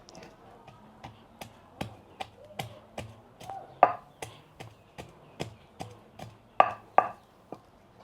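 Spicy salad being pounded in a mortar: steady, sharp wooden knocks in a regular rhythm, a few louder strikes standing out, close and clear with little else around.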